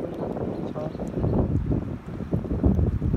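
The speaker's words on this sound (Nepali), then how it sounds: "अलि खोलामा चिसो हावा चलिरहेको छ" Cold wind blows along a riverbank at Dolalghat in Nepal, a steady close rumbling gust buffeting the microphone with no clear break.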